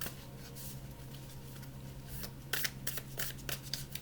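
A deck of tarot cards is shuffled by hand. Soft riffling begins quietly, then crisp, rapid flutters and slaps come in short bursts during the second half, close by with no talking.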